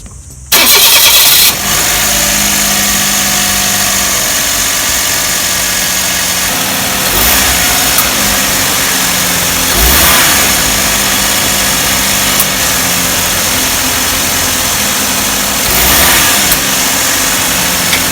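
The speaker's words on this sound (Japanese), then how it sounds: "一回エンジンかけます。" A car engine cranks, catches and settles into a steady idle right after its air conditioner belt has been tightened, loud and close with no voices.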